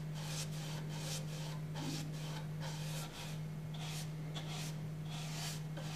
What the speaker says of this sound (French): Pour les petits champs fins, vous utilisez une brosse pointue.